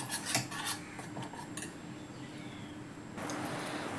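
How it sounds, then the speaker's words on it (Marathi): A spoon clinks and scrapes against a bowl while mixing curd, spices and gram flour for paneer tikka, a series of quick close metallic taps early on, then softer continuous scraping. "आता त्याच्यामध्ये 1 चमचा चण्याचं पीठ टाकून मिक्स करून घेऊ"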